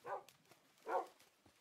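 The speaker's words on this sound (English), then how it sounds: "Let's just tame these dogs too." Tamed wolves in Minecraft give two short, soft bark-like yips spaced almost a second apart, faint and close in the quiet game audio.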